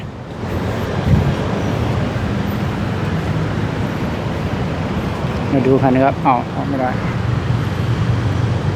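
Continuous roar of a city traffic jam near the Lat Phrao Road intersection in Bangkok, engines idling and rumbling nearby, with someone talking briefly over the noise.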